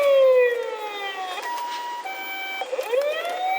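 Toy ambulance minicar with a button that cycles through several siren sounds: a loud electronic wail sweeping down, then switching to steady hi-lo tones and a rising whoop, close up and alone.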